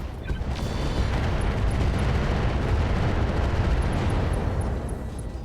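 Mech weapons firing at a Quickdraw mech in the RogueTech battle game, a dense roaring barrage of booming blasts and explosions blended into a loud, sustained rumble, no voices.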